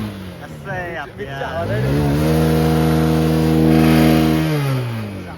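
A stuck vehicle's engine revs hard during a Ganpati immersion procession, its steady drone climbing and holding at a loud, strained pitch before easing off, with voices talking nearby.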